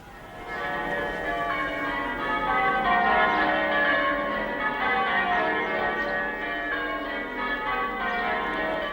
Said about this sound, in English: and the rhyming and the chiming of the bells, bells, bells